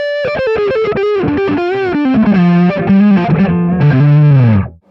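Loud electric guitar played with heavy distortion, a fast run of rock notes bending and sliding downward before settling into a sustained low chord that cuts off at the end.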